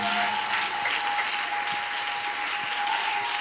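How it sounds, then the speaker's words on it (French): A church congregation claps and cheers together, dense sustained applause filling the space evenly from start to finish, with a faint steady tone running underneath. "Je veux qu'on acclame notre Dieu pour nos pasteurs."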